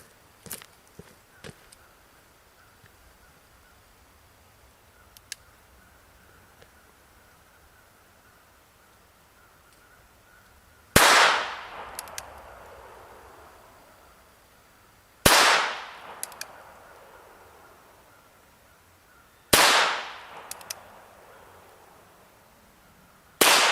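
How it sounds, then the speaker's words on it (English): Three sharp gunshots from a North American Arms .22 LR mini revolver firing subsonic rounds, spaced several seconds apart, each a loud crack with a short decay, after some faint clicks and handling noises. "that's 5 shots with the subsonic"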